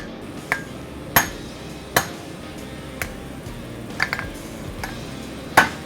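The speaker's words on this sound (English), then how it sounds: "Hammer." A hammer striking a hot steel blade while forging an 11-inch samurai chopper, giving about eight sharp ringing blows at irregular intervals, close and clear over quiet background hum, with no talk.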